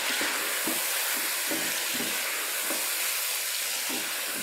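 Turmeric, red chilli powder, crushed coriander, cumin and garam masala being stirred together in a hot pan, a steady sizzle broken by repeated scraping strokes of a spoon, close and alone.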